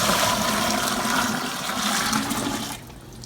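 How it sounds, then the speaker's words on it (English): Steady rush of strike water pouring into a home-brewing mash, loud and continuous, then tapering off near the end. "Going to go ahead and add in strike water here"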